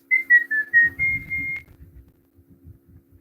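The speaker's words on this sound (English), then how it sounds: "I like to whistle while I work." A person whistles a short, clear melody of several notes, ending on a held tone, followed by faint low rustling sounds.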